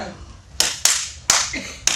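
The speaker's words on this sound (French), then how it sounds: "Mais tu fais quoi là? J'applaudis." A single person claps hands, four sharp, separate claps spread unevenly over about two seconds, close and fairly loud against a quiet room.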